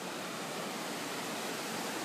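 Sea surf at Manuel Antonio beach in Costa Rica, a steady broadband wash of breaking waves heard alone with no voices.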